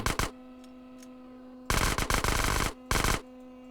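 Automatic gunfire in GTA San Andreas: a short burst, then a long sustained rattling volley and one more brief burst, loud and close over a steady low game hum.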